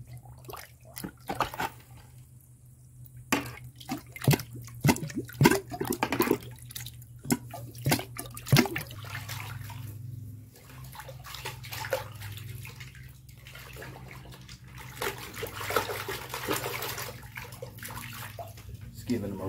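Water sprays and splashes hard as gold sluice mats are washed out in a tub, with irregular bursts of spattering and dripping over a steady low hum and scattered talk.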